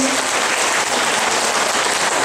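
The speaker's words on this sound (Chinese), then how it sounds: "咱大家鼓掌欢迎" An audience at a Taiwanese elders' association Father's Day gathering applauds a departing guest speaker, a dense, steady wash of clapping that fills the whole moment without letup.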